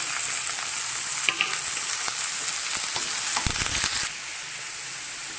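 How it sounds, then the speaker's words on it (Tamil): Chopped snake gourd hits a pan of frying onions with curry leaves and asafoetida, giving a strong close sizzle with stirring clatter and knocks, then a slightly quieter hiss near the end. "இப்போ கட் பண்ணி வச்ச புடலங்காயை போட்டுடலாம்"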